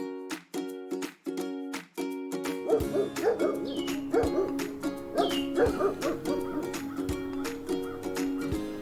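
A cartoon dog barks in a children's Clifford read-aloud story, with repeated short barks and yips over a plinking musical background, moderately loud throughout.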